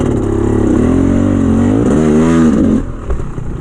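A dirt bike engine is revved hard with repeated throttle blips, a loud close buzzing rev that wavers up and down for a few seconds and then drops back to a rough idle.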